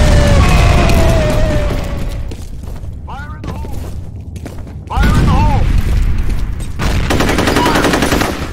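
In F.E.A.R. Combat on a docks map, gunfire and a grenade blast mix into a loud, busy firefight, with heavy bursts at the start and again in the second half, while players talk over the action.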